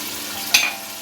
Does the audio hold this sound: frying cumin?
yes